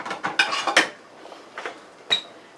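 A spoon clinks and taps against pots and dishes while making turkey gravy for a leftover turkey soup: a quick cluster of bright metallic knocks, then a pause and two more isolated clinks, close and fairly loud with no talking.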